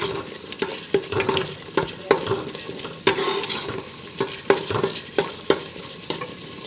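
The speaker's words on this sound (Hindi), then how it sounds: "तब तक पकाएंगे जब तक कि घी बिल्कुल अलग ना हो जाए मसालों से" Masala frying in ghee on low heat for a shaljam (turnip) curry: a continuous close sizzle punctuated by regular spoon-stirring scrapes and taps against the pot.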